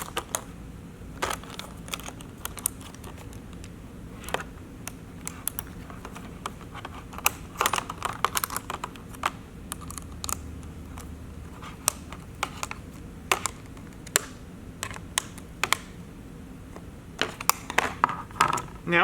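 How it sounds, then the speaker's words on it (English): Bolts on a rear mud flap for a 2025+ Can-Am Maverick R being tightened with a wrench and a 4mm Allen key, giving scattered sharp metallic clicks and taps at an irregular pace against a quiet background. "We'll take our wrench and our 4mm Allen, tighten this down, aligning all the holes in the flap"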